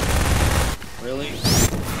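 Rapid gunfire rattles in the co-op game Half-Life 2 Synergy, a dense burst of shots followed by quieter weapon effects and a sliding whine, with players talking over the action.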